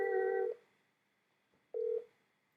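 Two short electronic tones from a phone placing a call on speakerphone, a long beep, a pause, then a second beep, fairly loud and close with no talking.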